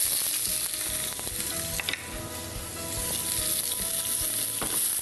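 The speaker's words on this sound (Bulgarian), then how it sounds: "И започвам да слагам всичко в тигана." Chopped vegetables and half an onion sizzle and fry in a pan, a loud, continuous hiss with small crackles and occasional stirring clinks, no voices.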